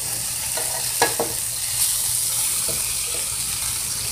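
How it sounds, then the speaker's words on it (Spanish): Meat for tacos al pastor roasting on a hot surface, giving a steady close sizzle with a few soft clinks and scrapes, no talking. "Y así vamos a seguir asando hasta terminar."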